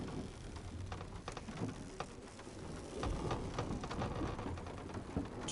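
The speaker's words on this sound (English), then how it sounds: "that rain is pouring down out there" Pouring rain in the PS4 game God of War hisses steadily with scattered sharp drop impacts and a low rumbling undertone, rising slightly in intensity partway through.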